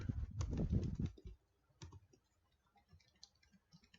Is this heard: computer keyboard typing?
yes